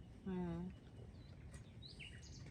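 A short human vocal sound comes first, followed by a few faint, high bird chirps in the distance against quiet outdoor background.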